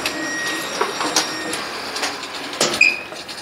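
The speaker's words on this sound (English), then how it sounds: "I'm going to turn it on and cycle it up here." A Brunswick A2 bowling pinsetter, its gearbox clutch stopping too late, runs through a cycle with a steady mechanical rumble, scattered clanks and a few sharper knocks and squeaks.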